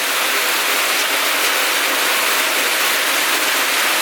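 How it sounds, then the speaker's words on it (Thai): Heavy rain drums steadily on a corrugated metal roof, a dense, constant hiss and patter with no pauses and no voices. "ได้ยินแต่เสียงฝนตกใส่สังกะสีเนาะ"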